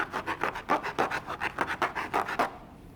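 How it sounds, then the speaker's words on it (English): Rolled-up sandpaper rubs the opening of a folded paper origami piece in about a dozen quick, even rasping strokes close up, then stops abruptly. "Then I'll take this rolled up sandpaper to smooth out the opening."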